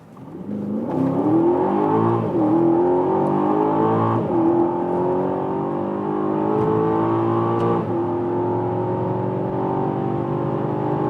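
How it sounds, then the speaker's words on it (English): Performance SUV accelerating hard from about 25 km/h, engine revving loudly and continuously as it climbs through the gears with rising pitch and brief dips at each shift, close and unbroken for the whole stretch. "We find a safe spot and accelerate from 25 kilometers an hour and let the hell roll."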